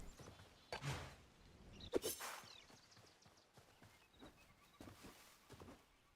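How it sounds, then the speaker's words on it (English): Horse in the video game Hytale, a few soft clip-clop hoof steps and faint creaks mixed with brief bursts of game sound, fairly quiet and moderately close. "Oh, there's a horse."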